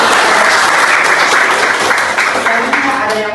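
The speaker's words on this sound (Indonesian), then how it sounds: "Mari kita berikan tepuk tangan" Sustained audience applause at a family lineage (silsilah marga) gathering, dense and steady throughout, with some voices mixed in near the end.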